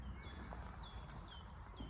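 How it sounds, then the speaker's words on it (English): Willow warbler song in a nesting area outdoors: thin, high, descending phrases repeated several times over two seconds, fairly faint against steady low background rumble. "Willow warbler here, and willow warbler number 1 out."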